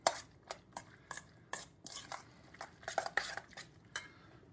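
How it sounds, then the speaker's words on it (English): Chicken pie filling made with canned cream of chicken soup is stirred in a bowl, giving a series of distinct clinks and scrapes of a utensil against the dish, close and fairly quiet, about a dozen strokes in a loose rhythm. "Now we're going to mix this all up."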